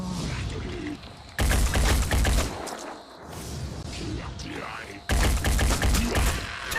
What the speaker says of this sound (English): we sniped him out of midair